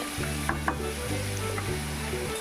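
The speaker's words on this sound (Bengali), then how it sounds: "এখানে অ্যাড করে দেবো কুমড়ো শাকের টবাগুলো দেখুন একটু ভালো করে একটু ফ্রাই করে নিচ্ছি" Pumpkin leaf stems frying and being stirred in a pan, a continuous close sizzle over a steady low hum with occasional soft clicks, no one talking.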